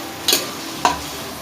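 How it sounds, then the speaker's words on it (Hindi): Two brief scraping stirs stand out against a faint, steady sizzle as onions lightly fry in a pan. "अब हम इसके अंदर अपनी प्याज ऐड कर लेंगे और इसको हल्का सा फ्राई करेंगे।"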